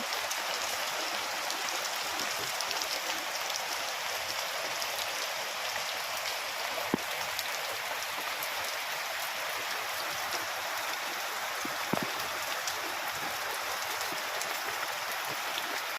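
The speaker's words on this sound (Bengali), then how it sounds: "তো দেখলে তো তোমরা কেমন বৃষ্টি হচ্ছে।" Rain pours down in a steady, even hiss that fills the whole stretch without letting up, with a couple of faint isolated taps and no talk.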